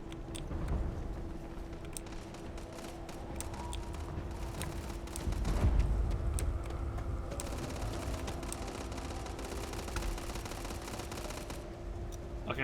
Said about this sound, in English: Okay, I heard the gunfire down there.